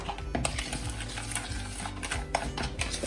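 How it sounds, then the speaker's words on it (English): A homemade body scrub of oil and mica-colored mixture is stirred in a bowl, giving quick, repetitive scraping and gritty swishing strokes up close, fairly quiet and with no voices. "just gonna stir this."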